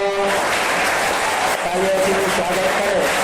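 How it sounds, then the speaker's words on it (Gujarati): Dense, continuous applause from schoolchildren welcoming a guest at a primary school admission ceremony, loud and close, with a voice speaking over the clapping at the start. "તાળીઓથી સ્વાગત કરે."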